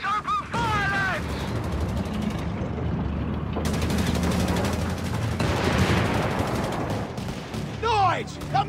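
Rifle and machine-gun fire in a Company of Heroes 3 Italy battle, a dense, continuous rattle of shots and booms under shouted voices throughout.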